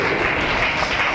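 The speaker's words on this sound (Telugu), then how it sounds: "గట్టిగా చప్పట్లు కొట్టండి" A church congregation applauds loudly, with dense, even clapping filling the whole moment.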